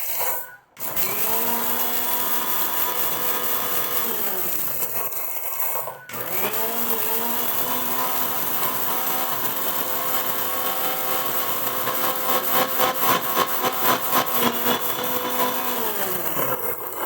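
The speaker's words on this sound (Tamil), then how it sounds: "நம்ம இப்போ இந்த சீடை மிக்சியில் பொடிக்க போகிறோம்." A mixer grinder powders roasted seeds into coffee powder, a loud steady motor whine that stops briefly and restarts, then turns rougher and pulsing near the end.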